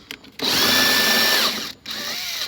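Power drill driving a screw into a speaker enclosure during a subwoofer box build, a loud steady whine held for about a second with a short gap before the motor spins up again, no talking.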